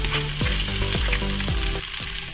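Sabudana hits a hot pan with potato already in it and sizzles loudly. Several rhythmic stirring strokes scrape through the steady frying noise.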